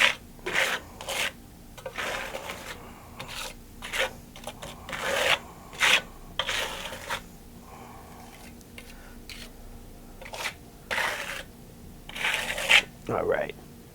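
A steel trowel rasps lime plaster with coarse aggregate onto a wall in a series of gritty scraping strokes, each pass a short burst of scratchy friction, close and fairly loud, with a quiet steady hum underneath.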